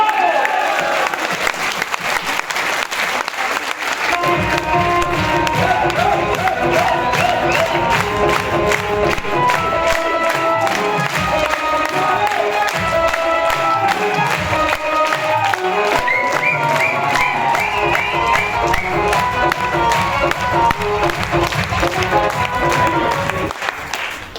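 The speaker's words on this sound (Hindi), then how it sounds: "एक बार सभी लोग पति के लिए ताली बजा दो।" Audience at a live talk event breaking into sustained applause and cheering, dense continuous clapping with whoops and shouts from many people, loud and close throughout.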